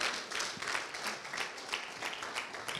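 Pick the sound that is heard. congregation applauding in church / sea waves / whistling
congregation applauding in church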